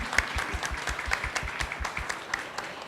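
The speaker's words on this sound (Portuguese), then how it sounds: "inclusive, uma salva de palmas" Applause from an audience at a supermarket-sector businesswomen's event, a dense steady patter of many hands clapping at moderate level for about three seconds, with no talk over it.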